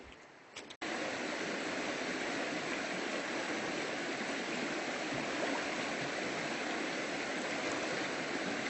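Near a river crossing at Agua Salada, Poza Azul, Morelos, a short handling rustle gives way to a loud, close, unbroken roar of flowing water that holds steady throughout.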